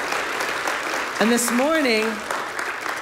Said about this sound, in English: So yeah, give them a round of applause.